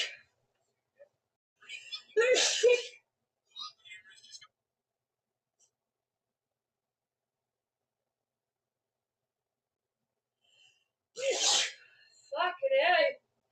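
Repeated sneezing in a fit, two bursts of sharp sneezes separated by a long silence, loud and close, with breathy whispered voices around them.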